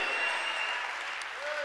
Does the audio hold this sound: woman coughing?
no